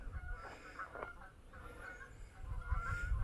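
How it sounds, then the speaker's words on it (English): Ducks on a walking route give loud honking, quacking calls in close, irregular bursts throughout. "And the ducks."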